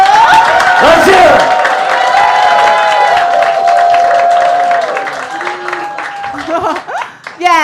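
Audience applause and cheers after a roast battle at a comedy show, clapping and whoops layered with crowd voices, swelling at first and then thinning out as chatter takes over.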